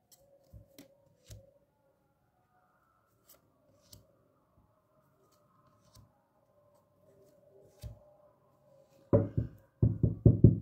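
Tarot cards being handled: a few soft, scattered taps as cards are laid down, then a quick run of brisk, close shuffling bursts at the end, with no talking.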